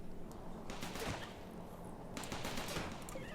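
Automated turrets in the video game Rimworld fire repeated bursts of gunfire, with broadband cracks clustered in two volleys, steady and fairly loud against a constant background hum.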